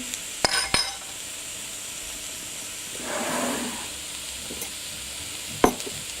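Stir-fried rice sizzles in a pan on medium heat with a steady hiss. Sharp utensil clinks come near the start and end, and a brief scraping stir sounds in the middle.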